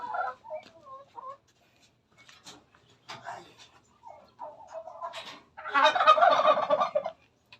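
A male turkey in a flock hit by fowl pox gobbles in a sharp burst near the end, after scattered softer fowl calls and clucks, all close and clear.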